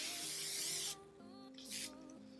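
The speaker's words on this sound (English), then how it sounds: "I like to take the Chi Magnified Volume Hairspray and just spray that a little bit." Two short hissing bursts from a hairspray aerosol can, close and crisp, with soft background tones continuing between the sprays.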